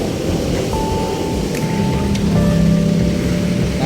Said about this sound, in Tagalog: Naulan kasi.